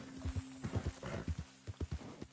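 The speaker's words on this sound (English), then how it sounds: "Oh my god, this horse is dreadful." Horse hooves clip-clop in a steady walking rhythm in the video game Red Dead Redemption 2, with a short whinny partway through, over a faint steady hum.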